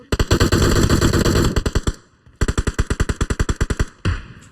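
Rapid automatic gunfire in a video game, loud and close, fired in fast sustained bursts with a short pause before another string of evenly spaced shots and a final burst.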